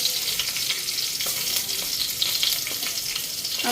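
Cumin seeds and a bay leaf sizzle in hot oil with a bright, crackling hiss and scattered pops; the sound is close and fairly soft, and no one speaks.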